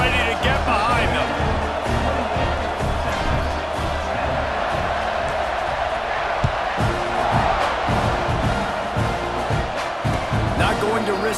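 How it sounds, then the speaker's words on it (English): A packed football stadium crowd in Texas roars steadily as teams line up for a kickoff, a dense loud wall of cheering and shouting throughout, with a commentator talking over it. "this crowd now ready to get behind them"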